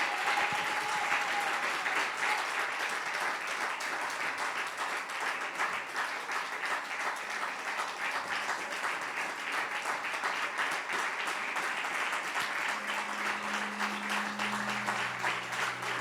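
Congregation at a Father's Day church service applauding in memory of the church's founder, steady dense clapping from a large audience sustained throughout, with a brief tone or voice rising near the end.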